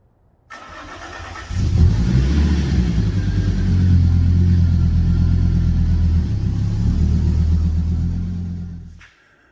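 A Fiat Coupe engine starts and then runs with a deep, rumbling idle and mild revving as the car drives off a ramp, close and loud for several seconds before cutting off abruptly.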